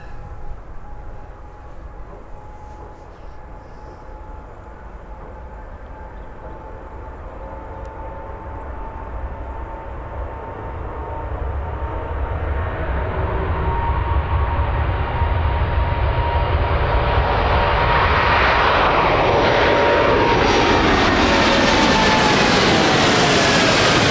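Boeing 787 Dreamliner at Birmingham Airport, its engine roar swelling steadily from a distant rumble to a loud, close, broad whine and rush as the jet passes, with no voices.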